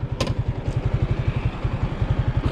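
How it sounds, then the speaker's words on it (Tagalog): Freshly washed motorcycle with noisy brakes, its engine chugging in a steady low, rapid pulse close to the microphone, with a short clattering scrape near the start. "maingay talaga yung preno niya"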